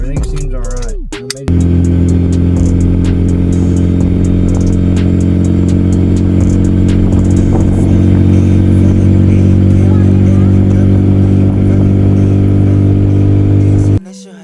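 A car engine runs at a steady idle with a constant low hum and faint clatter, starting and stopping abruptly, no talking.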